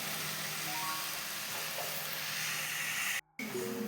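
Tomatoes sautéing in a pan for Andhra-style kara chutney give a steady, close sizzle with light stirring, broken by a brief moment of silence near the end.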